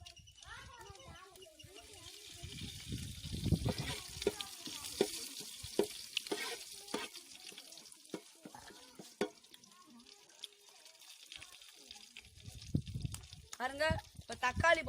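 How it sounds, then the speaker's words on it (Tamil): Curry leaves hitting hot oil in a pan for chicken kuzhambu, with crackling sizzle and repeated stirring scrapes that build in bursts, under frequent nearby talk and children's voices. "இப்போ கருவேப்பிலை போட போகிறோம்"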